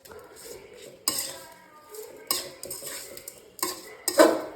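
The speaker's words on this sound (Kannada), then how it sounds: "ಚೆನ್ನಾಗಿ ಇದನ್ನು ಕಲಿಸ್ಬಿಟ್ಟು" Greens being stirred in a pan with a metal spatula, scraping strokes and clanks of utensil on cookware repeating every second or so, close and fairly loud.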